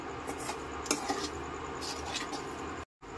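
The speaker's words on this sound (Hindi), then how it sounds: "ये आधी कटोरी मिल्क पाउडर रहा, साथ में इसे मिक्स कर लेते हैं।" A spoon stirs milk powder into a bottle gourd barfi mixture in a pan, giving quiet scraping and rubbing sounds with light clinks of metal against the pan, followed by a brief cut to silence.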